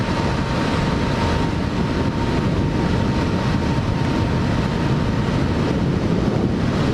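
A Honda CB500F motorcycle rides along a country road, its engine a steady low rumble buried under heavy, constant wind roar across the microphone for several seconds, with no talking.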